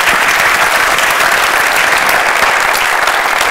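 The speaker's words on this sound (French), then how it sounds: "je voudrais bien qu'on les applaudisse" Steady, dense audience applause fills a hall at the launch of an international Moroccan promotional campaign, continuous and even for the full few seconds with no voices on top.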